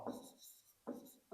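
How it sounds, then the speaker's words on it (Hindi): Chalk or marker scratches out a question on a board in a few short, quiet strokes separated by brief pauses. "तो मैं क्वेश्चन लिखता हूं बच्चों"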